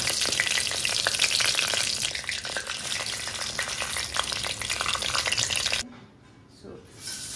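Curry leaves and a bay leaf hit hot oil in a pan, a loud dense crackling sizzle that runs for several seconds close by, then cuts off sharply to quiet with a faint trailing hiss.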